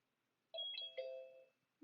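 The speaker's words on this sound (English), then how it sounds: "It just makes a little doorbell sound" A Zoom waiting-room notification plays a soft two-tone electronic doorbell chime on an iPad, a clean, quiet ding-dong standing alone in silence.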